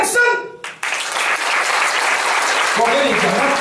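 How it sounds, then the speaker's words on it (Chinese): An audience at a business startup presentation breaks into loud, sustained clapping right after a brief spoken exclamation, and a voice resumes faintly beneath it near the end. "掌声！"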